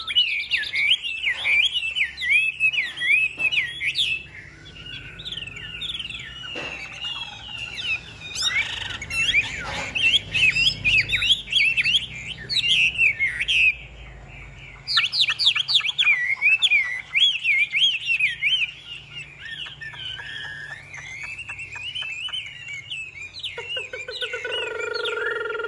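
A caged Hwamei, the melodious laughingthrush, sings loud and close: rapid varied whistled phrases and warbles that keep pouring out with short breaks, with some harsher chattering notes mixed in and faint background noise.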